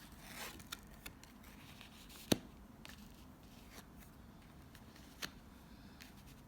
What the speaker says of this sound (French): Je retourne les cartes en même temps que vous.